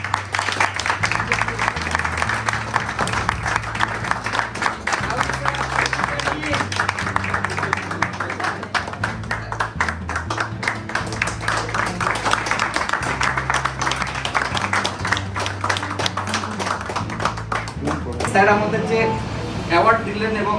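An audience at a students' ceremony, where flowers and certificates are handed over, claps in dense, continuous applause lasting the whole stretch, mixed with music and voices, until it fades near the end.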